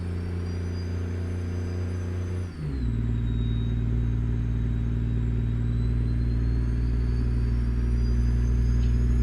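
Freightliner Argosy truck with a 500 horsepower 12.7 liter Series 60 engine in American Truck Simulator, a steady loud low diesel drone with turbine whine that dips briefly as it shifts, then settles back into an even hum.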